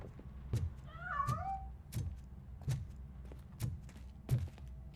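A cat meowing in the RoboCop: Rogue City video game, one clear drawn-out meow near the start over a regular pattern of heavy footsteps, with no talk.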